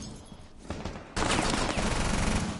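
Gunfire in Rainbow Six Siege bursts out as a sudden, loud, sustained volley of rapid shots after a quieter stretch of muffled game noise, filling the rest of the moment with dense crackling fire.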